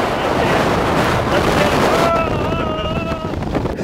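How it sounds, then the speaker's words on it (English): Strong mountain wind with gusts in the 40s roars and buffets the microphone in a steady, loud rush on a trail in Snowdonia, Wales, with some faint tonal whistling toward the end. "It's windy!"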